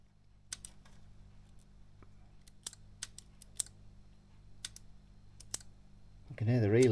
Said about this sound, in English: I can hear the relays clicking.